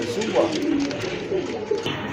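Red-necked, fat, big-sized pigeons coo in low, steady rolling calls that run throughout, close by and moderately loud, with someone talking over them.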